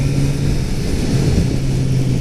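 A 2018 Kawasaki Z900RS gives off a steady mechanical gear whine while riding, a sustained low tonal hum that rides over a continuous engine and road roar at constant loudness, with no talking.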